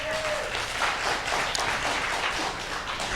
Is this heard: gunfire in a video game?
no